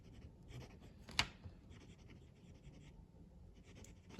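A gunmetal Wordsworth & Black Primori fountain pen with a steel medium nib scratches softly across paper, with faint continuous strokes and one sharper tap near the start; quiet and close, no voices.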